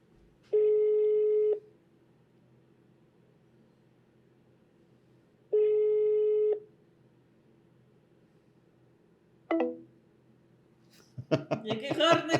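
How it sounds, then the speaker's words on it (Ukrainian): Two long electronic telephone ringback tones about four seconds apart, each lasting roughly a second, followed by a short click-like burst and then people laughing and talking near the end. "телефонний дзвінок."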